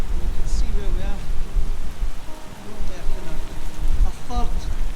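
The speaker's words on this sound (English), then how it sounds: "Well, we're trapped for the rain. It's absolutely pouring." Heavy rain pours down in a dense, steady hiss close by, with someone talking over it.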